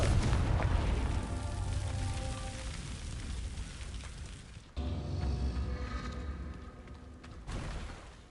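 Rumbling blasts from the Confringo blasting spell in Hogwarts Legacy, a broad booming roar that fades and then erupts again with a second hit midway, loud and dense.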